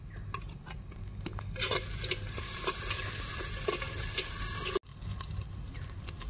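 Onion, green chilli, ginger and garlic paste fry in a clay pot, a continuous close sizzle with scraping stirs and a brief break near the end.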